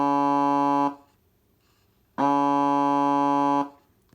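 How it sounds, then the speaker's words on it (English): Horn sounding from a speaker mounted under a ventilation unit on a Dumas model of the navy ship USS Crockett: two steady, loud, buzzy harmonic blasts, each about a second and a half, separated by a short silence. "and I also have a horn."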